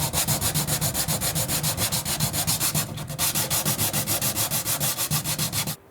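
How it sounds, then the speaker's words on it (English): Rapid, regular sanding strokes rasp across paint runs on a wooden bifold door, loud and close, pausing briefly midway and stopping just before the end. "I have finished sanding the runs"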